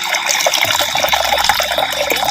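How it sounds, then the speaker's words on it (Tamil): Water poured into a clay pot for boiling soaked white chickpeas, a loud close continuous splashing stream with bright trickling, steady throughout. "வெள்ளை சுண்டலை அவிக்கிறதுக்கு தேவையான அளவு பச்சை தண்ணி சேர்த்துக்கிறேன்."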